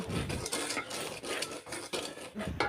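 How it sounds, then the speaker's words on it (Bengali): Semolina roasting in oil on a stove, with a utensil scraping and clinking against the pan in a dense, continuous stir close by. "আমি চুলায় সুজিগুলো বসিয়ে দিলাম এবং তেলে বেজে নেব"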